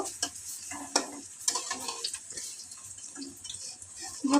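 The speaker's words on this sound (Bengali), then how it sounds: "নাড়িয়ে নেব।" Drumstick flower fritters frying in oil over low heat are stirred, giving sharp utensil clinks and scrapes over a steady close sizzle.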